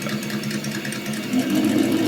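A Sense Innovations ESS Dual+ sound module simulates a motor engine, giving a steady buzzing drone that rises in pitch and loudness toward the end as the throttle is increased.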